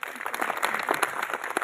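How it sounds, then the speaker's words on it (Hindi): A school audience at a government school annual function applauds its teachers with a brief burst of dense, mid-level clapping from a crowd. "उनके लिए आप जोरदार तालियां जरूर बजाएं"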